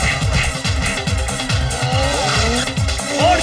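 Cartoon race car, Oggy and the Cockroaches style, roaring close with a steady pulsing engine while tires squeal in sharp sliding bursts, loudest near the end.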